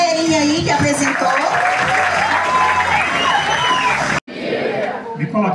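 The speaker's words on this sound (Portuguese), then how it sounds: "Palmas pra galerinha aí que apresentou" Loud, sustained applause and cheering from a large school crowd at a Black Consciousness Day event, briefly cutting out near the end before the clapping and crowd noise resume.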